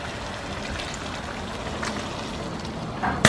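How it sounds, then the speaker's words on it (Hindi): Hot water poured into a cooking pot outdoors over a fire, a steady watery pour and trickle running throughout at moderate level, ending with a brief louder splash or clatter. "अभी हम डाल देते गरम पानी"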